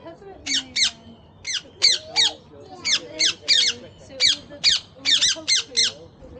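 A rapid series of shrill squawks repeats in short bursts, loud and close, with low background sounds between calls.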